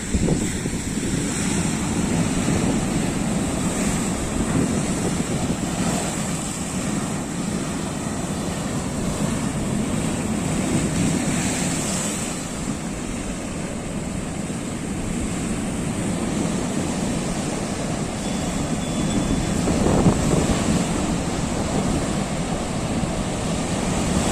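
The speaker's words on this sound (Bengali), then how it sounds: "দেখো জলগুলো কিরকম তেড়ে তেড়ে আসছে দেখছো" Rough sea waves surge and crash continuously onto Shankarpur beach in the rain, a broad roaring wash with wind buffeting the microphone, steady and loud for the whole stretch with no voices.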